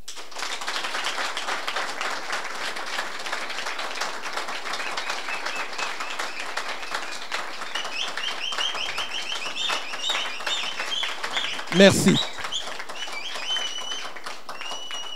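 Sustained applause and clapping fill a political rally of the Congolais debout movement founded by Sendika Dokolo, steady throughout with a brief spoken thanks and a louder burst near the end.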